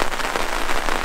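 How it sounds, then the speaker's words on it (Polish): Heavy, steady rain pouring down at a tent campsite in Hungary's Tokaj region, a dense continuous hiss of drops close by with no voices. "Leje cały czas."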